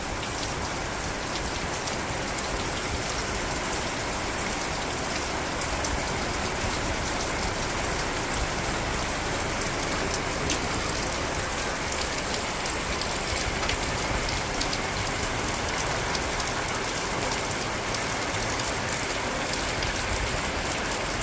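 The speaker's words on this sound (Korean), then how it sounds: "아, 이 비가 오는데." Steady rain falls continuously, a dense, even hiss of drops on surfaces that stays at the same level throughout with no voices.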